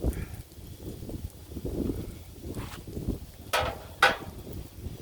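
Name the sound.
strong wind outdoors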